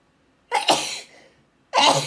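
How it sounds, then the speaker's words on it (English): A person sneezes close up, a sharp burst with a breathy intake and forceful expulsion, then a brief pause before a second loud sneeze begins. "I knew I was going to sneeze and I didn't want to stop it"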